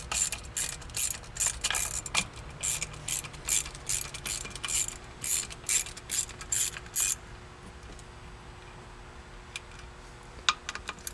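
A ratchet socket wrench works bolts loose on a C5 Corvette console, with rapid close clicking bursts repeating in quick rhythm for about seven seconds before things go nearly quiet.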